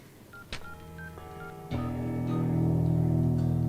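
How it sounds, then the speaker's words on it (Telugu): A telephone number is dialed as a quick series of short keypad tones, followed by a steady tone that grows slightly louder. The tones are heard alone in a quiet room. "ఫోన్ చేసి కనుక్కో."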